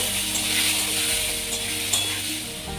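Potatoes fry in a pan with a steady, close sizzle and some stirring scrapes, holding even loudness throughout with no talking.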